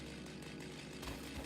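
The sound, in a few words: chainsaw in the video game Satisfactory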